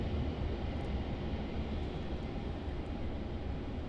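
A Jetstar airliner departing Melbourne Airport makes a continuous, broad, distant roar of jet engines, steady and unbroken without any voices.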